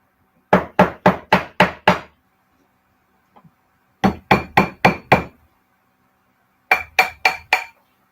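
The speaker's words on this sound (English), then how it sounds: "And this is actually making the metal hard. Hammering it makes it hard." Sterling silver ring struck with a hammer on a tapered steel mandrel, three bursts of sharp metallic blows, five or six rapid evenly spaced hits each, loud and close with ringing clinks and short pauses between.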